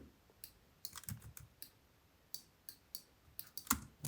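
Computer keyboard typing, quiet irregular key clicks in small clusters with brief pauses, close and alone in a still room.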